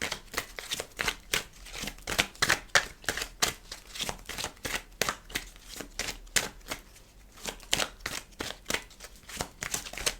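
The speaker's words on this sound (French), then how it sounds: "Je fais tomber toutes les cartes aujourd'hui." Tarot cards dropping and being shuffled, a steady run of crisp, close flicking and riffling strokes repeating quickly throughout, with no talk.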